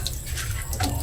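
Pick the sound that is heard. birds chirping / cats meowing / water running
water running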